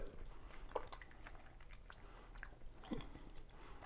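Someone chews a small piece of gluten-free sourdough dough made from regular flour, giving faint, close, soft squishy bites and a couple of sharper wet clicks over a quiet room hum.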